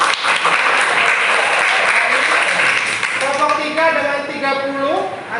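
Classroom applause for a student group, steady dense clapping filling the whole stretch with a few voices calling out near the end.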